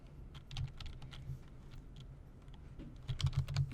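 Someone types code on a computer keyboard, giving a quiet, irregular patter of key clicks with a louder flurry of keystrokes near the end and no talking.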